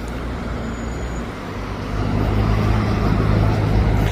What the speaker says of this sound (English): Oh, Ferrari.